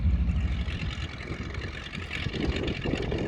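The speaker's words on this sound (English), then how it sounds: "Enjoy the sound of that radial engine." Radial engine of a two-seater joy-flight aircraft taking off in Australia, a steady rough droning roar heard from a short distance, rising slightly toward the end, with no talk.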